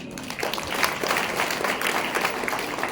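Applause from an audience at a women's empowerment event in Ashoknagar fills the room: dense, continuous clapping at moderate loudness, sustained evenly without voices over it.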